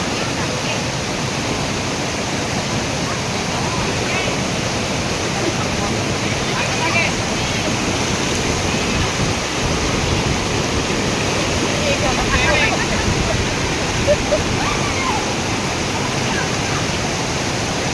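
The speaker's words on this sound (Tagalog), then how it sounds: "ang ganda ng waterfalls" Steady, dense roar of rushing water from a nearby waterfall at Camp Paraiso, Nueva Ecija, fills the scene without pause, loud and constant.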